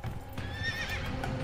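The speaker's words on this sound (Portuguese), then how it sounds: "400 anos depois, havia mais de 1 milhão de cavalos selvagens." Wild horses on the great plains gallop with a close clip-clop of hooves, and a high whinny rises in the middle.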